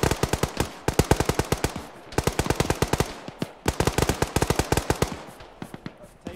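AK rifle fire in Arma, several long rapid automatic bursts of sharp cracks, loud and close, separated by brief pauses, with no talking.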